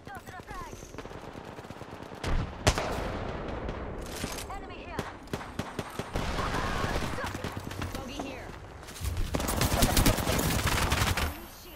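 Bursts of automatic gunfire from an Apex Legends firefight ring out repeatedly, with dense rapid volleys and sharp single shots rising in intensity toward the end, mixed with game effects and callouts.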